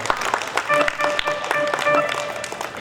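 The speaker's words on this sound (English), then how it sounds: "So let's clap for him" Brief clapping from a convention audience at a Umunoha-USA gathering in Charlotte, North Carolina, scattered hands rising into moderate applause for a few seconds with voices mixed in.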